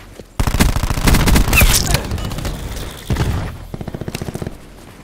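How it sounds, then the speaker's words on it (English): Grenade and gunfire in Call of Duty: Black Ops 4 on the Nuketown map: loud close bursts of rapid shots and booming impacts, a dense fusillade that thins into a rattling stutter. "Grenade going out."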